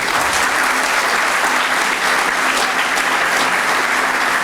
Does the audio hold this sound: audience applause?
yes